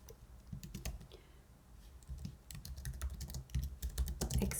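Typing on a computer keyboard, bursts of quick, close, crisp key clicks with short pauses between them, heard alone without talk.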